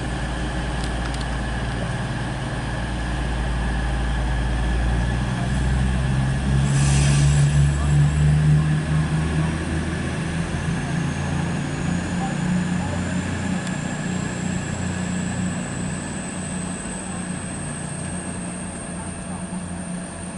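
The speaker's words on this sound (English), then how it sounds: "departing now is 222007 on the 1628 East Midlands train service from Nottingham to" East Midlands train 222007 pulls out of Loughborough station on a Nottingham to London St Pancras service, with a steady, heavy low engine rumble and drone. A thin rising whine builds toward the end of the twenty seconds.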